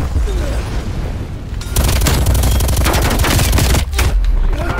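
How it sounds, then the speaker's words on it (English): Sustained automatic AK rifle fire in Call of Duty Black Ops Cold War, loud dense bursts of rapid shots with booming low impacts, following a quieter stretch of distant game noise. "He got in his fucking AK he's shooting."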